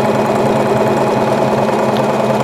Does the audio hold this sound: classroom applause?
no